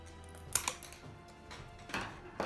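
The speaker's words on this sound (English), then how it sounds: "I will try to cut the Invisible Grille Wire" Cheap two-dollar scissors snip through invisible grille wire in a few sharp, faint clicks spaced irregularly, with quiet handling noise between cuts.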